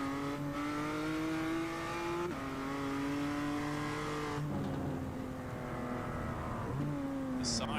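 Race car engine in a sim racing game at Mount Panorama, droning loud and steady through gear changes with shifting harmonic pitch, clear shifts around two and four seconds, no talk.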